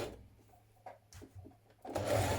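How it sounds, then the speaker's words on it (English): A sewing machine stitches a garment facing in short quiet bursts, then runs faster and louder in a steady whir at the end. "Stitch your facing in place."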